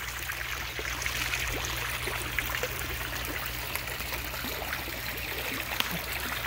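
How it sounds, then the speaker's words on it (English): Water trickles and splashes steadily from a garden pond fountain, a continuous close babbling spray with a low hum underneath and no voices. "I have a couple of fountains"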